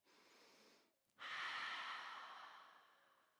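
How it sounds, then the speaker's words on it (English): A deep breath in a morning yoga session: a steady inhale, a brief pause, then a long, loud exhale through the mouth that slowly fades, close and alone. "One more big breath"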